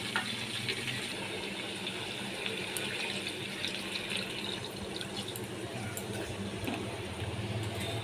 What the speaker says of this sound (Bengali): এবার আমি দু বাটি জল দিয়ে দেব